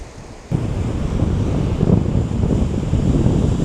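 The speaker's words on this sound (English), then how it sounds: "Yeah, some of these waves do look surfable." Waves on Lake Erie breaking at the end of a pier, a continuous loud wash of surf with heavy wind buffeting the microphone, rising abruptly after a quieter first half second.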